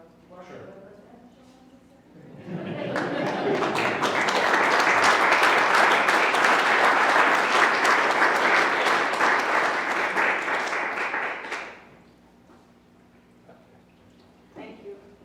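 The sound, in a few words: applause for award winners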